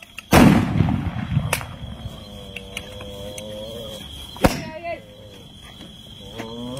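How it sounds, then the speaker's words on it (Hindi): Warning shots fired into the air outdoors, with a loud sharp report early on and another crack later, over a lowing animal and background voices. "कमांडो फायर करो तो बाहर रहने दो इसको बाहर रहने दो एयर फायर दो एयर फायर दो"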